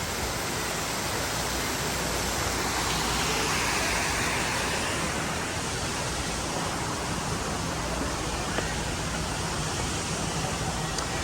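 Steady, loud rush of falling water from a landscaped waterfall at a Waikiki resort, continuous and broadband throughout with no breaks, close by and filling the whole scene.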